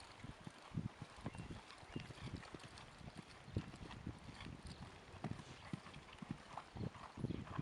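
Horse hoofbeats at a canter during a riding lesson, a steady rhythmic clip-clop on the arena footing, fairly faint and heard alone at a moderate distance.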